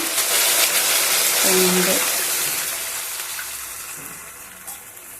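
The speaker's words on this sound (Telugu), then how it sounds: "ఎనిమిది గ్లాసుల నీళ్ళు పోసుకుంటా" Water poured from a glass into a cooking pot for wheat rava upma makes a steady, close splashing rush that fades gradually toward the end.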